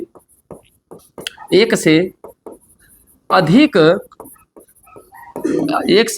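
Chalk or marker taps and short strokes on a classroom board sound in small clicks between bursts of a teacher's speech, faint and intermittent under the talk.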